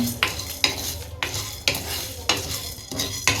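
Dried red chillies and black peppercorns dry-roasting in a pan with no oil over a medium flame, rhythmic scraping strokes of a spatula every half second or so over a faint crackle, close and clear.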